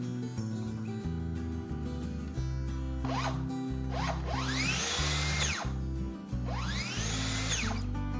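A Makita cordless track saw running on battery power spins up in short bursts with rising and falling whines, stopping and restarting several times up close.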